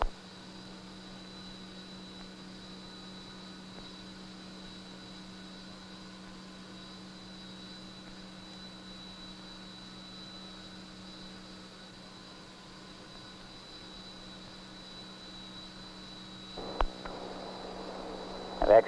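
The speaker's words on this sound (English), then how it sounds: "We have rotation on both propulsor fans." A GE36 unducted fan engine starting up with both propulsor fans rotating gives a steady whirring drone and a constant tonal hum, with a few brief louder bursts near the end.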